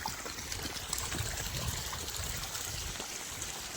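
Water trickles and dribbles steadily from a leaking water pump motor, a faint continuous splashing with no talk over it.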